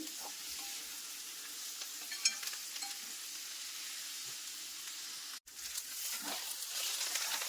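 Chopped coriander leaves frying with ginger garlic paste in a pan, a soft, steady sizzle with light stirring scrapes, briefly cutting out before the frying resumes slightly louder.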